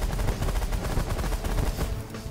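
Dense rapid gunfire in the space strategy game The Last Federation, a loud continuous rattle of shots in a fast steady rhythm, no voices.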